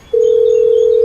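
A telephone dial tone sounds as a call is placed during a toy mini-tractor chilli farm build. After a brief quiet start, one loud, steady, unbroken tone begins and holds to the end, with no voices.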